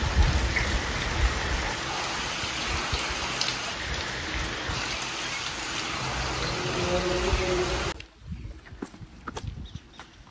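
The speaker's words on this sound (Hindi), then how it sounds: "लगातार बारिश हो रही है।" Heavy continuous rain on the second straight day of downpour pours down as a dense, steady hiss of drops striking surfaces, loud and close, then drops off abruptly into sparser, quieter dripping near the end.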